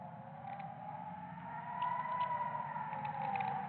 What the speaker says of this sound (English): Sirens in Beirut, sirens in Kuwait,